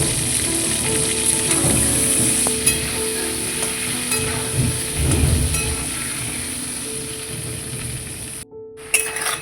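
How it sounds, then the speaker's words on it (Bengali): Potato pieces fry in hot oil for a mutton curry, a continuous close sizzle with stirring scrapes and occasional clinks, steady for several seconds before a brief break and a final clatter. "এবার আমি আলুগুলো দিয়ে দেবো"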